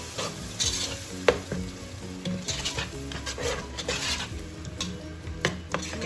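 Ground tomatoes frying in a pan for quail masala give a close, continuous sizzle, broken by spoon stirring scrapes and a few sharp clinks against the pan.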